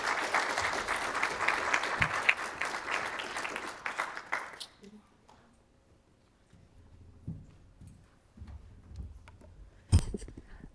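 An audience at a business forum applauds for a few seconds, a full, close burst of clapping that fades out abruptly into a quiet room with scattered small noises.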